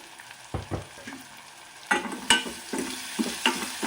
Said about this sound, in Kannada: ಈಗ ಸ್ವಲ್ಪ ಹಾಕೋಣ ಈರುಳ್ಳಿ ಫ್ರೈ ಆಗೋದ್ರಿಗೆ